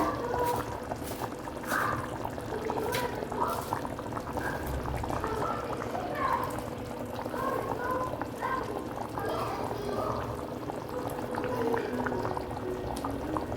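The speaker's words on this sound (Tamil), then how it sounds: "லோ ஃப்ளேமில் வந்துட்டு கொதிக்க விடுங்க" A pot of chicken curry bubbles steadily at a low simmer on low flame, soft popping and gurgling continuing throughout with faint clinks in the background.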